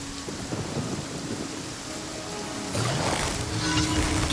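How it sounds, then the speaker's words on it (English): Steady rain and rumbling thunder in the video game Genshin Impact, a dense wash of falling rain with low thunder swelling louder toward the end, no voices. "It's raining again? This isn't good."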